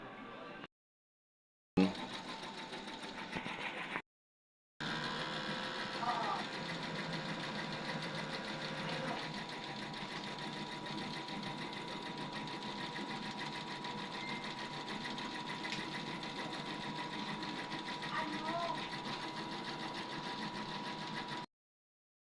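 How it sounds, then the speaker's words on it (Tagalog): An XP600 inkjet printer head shuttling back and forth, a soft steady mechanical whirring and buzzing that runs continuously after brief gaps at the start. "Ito ang aming machine na XP600. Aming printer head."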